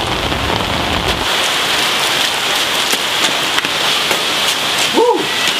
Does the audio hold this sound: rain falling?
yes